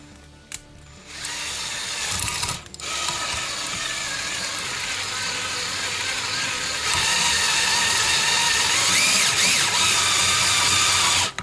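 A power drill with a universal socket drives a bolt, whirring loudly and steadily after a short start and rising in pitch and strain near the end, close up with no talking.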